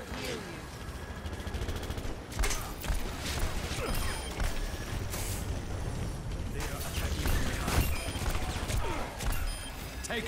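Rapid gunfire bursts and mechanical weapon sounds from a team match in the video game Overwatch, dense and continuous with overlapping shots and impacts.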